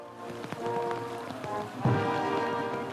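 A heavy downpour falls on a Singapore street as a constant wash of rain noise with scattered drop impacts, moderately loud, with faint tonal background sound and no clear speech.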